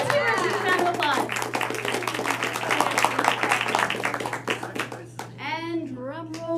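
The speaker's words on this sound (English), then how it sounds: "Let's give her a huge round of applause." Applause and clapping from a team meeting audience honoring a prize winner, a steady patter of hands mixed with people talking, fading out near the end.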